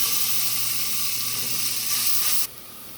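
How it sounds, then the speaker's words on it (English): Diced onions sizzle and hiss steadily in a hot pan, a loud continuous frying sound that drops abruptly to a quieter sizzle near the end. "now we're gonna throw the diced onions in there."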